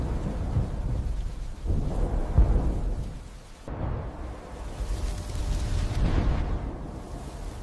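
Deep rolling thunder from lightning striking the Burj Khalifa, the world's tallest building in Dubai, rumbles in long waves over steady rain, loud and sustained with no talk.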